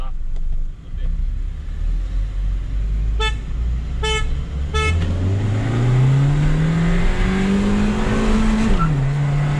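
Three short car horn toots, then an engine revving up and accelerating hard in a drag race between a Polo 1.0 TSI and a Hyundai i30 2.0 16V manual, loud and close, with voices over the start.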